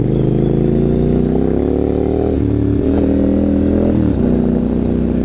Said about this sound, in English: See, that rear tire just slides. Just spins up and throws a roost.